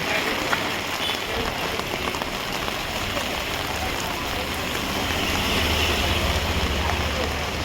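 Heavy rain pours down in a Mumbai market street on a Sunday, a dense constant hiss and patter that swells slightly toward the end, with faint voices beneath.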